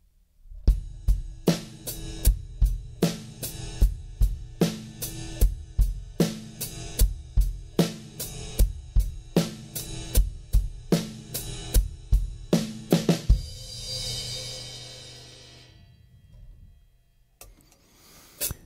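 A steady drum groove played on a ride cymbal, with sharp, evenly spaced hits and a shimmering cymbal wash, ending in a ringing cymbal decay and a couple of faint final taps.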